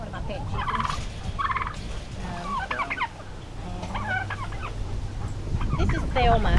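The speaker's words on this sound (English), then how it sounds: "There's another one of my pet chickens." Chickens cluck and call repeatedly, with turkey-like gobbling mixed in, over a constant low rumble of outdoor noise.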